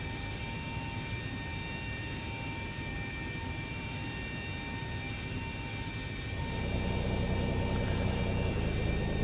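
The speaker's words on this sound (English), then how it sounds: "Okay, so here comes the tug." Pushback tug in the X-Plane 11 flight simulator approaching the aircraft, heard as a steady broadband engine drone under a constant cabin hum that grows slightly louder and rougher near the end as the tug draws close.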